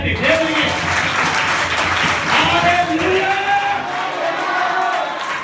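A church congregation clapping for God during a pastor's sermon, dense applause mixed with crowd voices and shouts, loud and sustained, fading slightly near the end.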